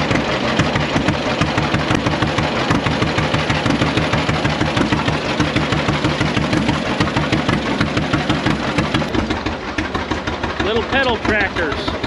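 A late-model Deere D tractor with twin stacks runs at a vintage farm show in Longmont, Colorado, its engine thumping in a steady close rhythmic putt-putt throughout, with other machinery and voices in the background.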